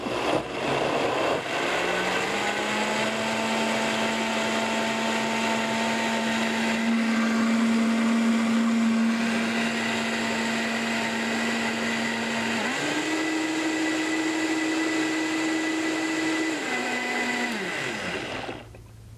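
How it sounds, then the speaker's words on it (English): A kitchen blender runs steadily on cashews for a creamy cheese ball filling, a loud whirring motor drone that holds for many seconds, steps up in pitch partway through, then winds down at the end. "if your blender's not super powerful, go a little longer"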